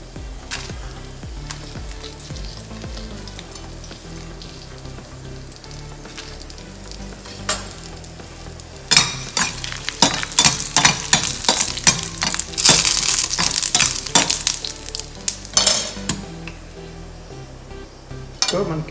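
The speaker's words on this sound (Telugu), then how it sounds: "దాంట్లో ఆనియన్ వేసి అది వేగిందలా చూసాను" Onions frying in oil in a pan, a steady close sizzle with intermittent clinks and scrapes of a spatula stirring against the metal, growing louder and busier midway; no talking.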